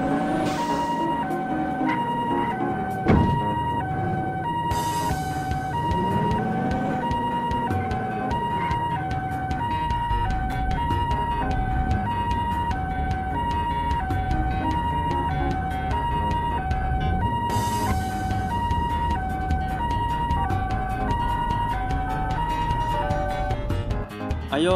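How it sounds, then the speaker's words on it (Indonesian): An ambulance siren wails steadily and loudly throughout, its repeating tones cycling without pause, with no talking over it. "Kita akan panggil ambulans dulu."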